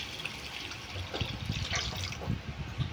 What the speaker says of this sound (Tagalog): ilagay natin ang tubig nang galing sa water station